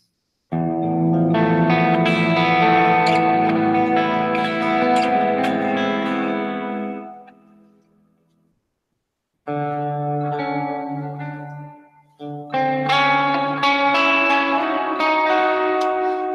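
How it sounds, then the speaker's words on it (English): Electric guitar running through a Line 6 HX Stomp with screamer overdrive and chorus effects, ringing shimmering chords up close with long decays, a pause of near silence, then more strummed chords, all without talk. "So we put a screamer and a chorus, perhaps."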